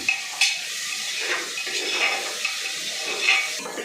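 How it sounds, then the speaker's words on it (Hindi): Soya chunks frying in a pan for a vegetable biryani: a continuous bubbling sizzle with soft crackles and occasional sharper pops, close and steady with no talking. "अब ये सोया बड़ी फ्राई हो रही है तब तक"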